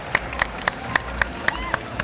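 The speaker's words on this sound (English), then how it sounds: "Round of applause for Monty." Evenly spaced sharp claps, about eight in two seconds, ring out in a steady rhythm over a faint background murmur, like a slow round of applause.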